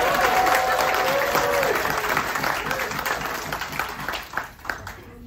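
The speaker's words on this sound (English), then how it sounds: "Round of applause for yourself." Cruise passengers aboard the World Explorer on an Antarctic voyage applaud after about 97 polar plungers swim in near-zero temperatures: dense, steady clapping from a crowd that holds loud and then tapers off toward the end.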